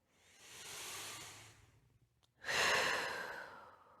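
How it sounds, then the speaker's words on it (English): A single deep breath during a yoga pose: a long soft inhale, a brief pause, then a stronger, louder exhale, close and isolated. "And just take one breath here."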